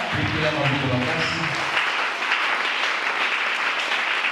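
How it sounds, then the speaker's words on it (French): A church congregation at a Sunday thanksgiving service applauds loudly and steadily throughout, a dense roomful of clapping, with a voice speaking over it at the start. "acclame très fort."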